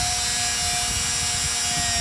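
Steady dry rubbing and scraping of a 400 grit stone drawn flat across a small Glock trigger part, continuous and close, with a faint constant tone behind it and no talk.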